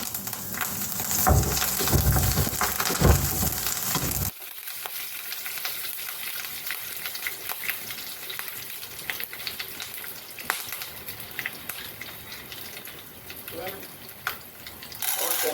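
Curry leaves and peanuts fry in hot oil, sputtering loudly with bursts of crackle at first, then settling into a quieter steady sizzle with faint clinks, no talking.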